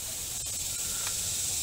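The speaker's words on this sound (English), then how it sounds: "We'll flush that up in there" An AC Pro power clean and flush aerosol can sprays steadily into a car's air conditioning system, a constant close hiss that holds unbroken throughout.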